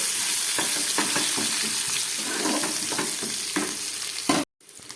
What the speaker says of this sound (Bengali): এবারে এই সবজিগুলোকে একটু ভেজে নিচ্ছি